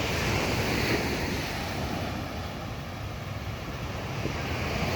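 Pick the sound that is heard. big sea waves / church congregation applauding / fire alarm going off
big sea waves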